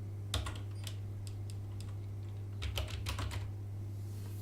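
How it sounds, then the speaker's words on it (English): Quiet typing on a computer keyboard, with two short clusters of soft key clicks over a steady low electrical hum. "Let's type theory."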